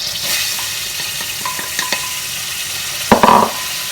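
A butter and flour roux stirred in a hot pan, with a steady sizzle throughout and occasional scrapes of the utensil, ending in a brief louder clatter near the end, close with no speech.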